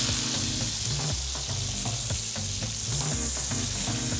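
Marinated wild boar shoulder browns in very hot olive oil with a loud, dense sizzle and crackle up close. The steady frying noise runs throughout, layered over low rumbling tones.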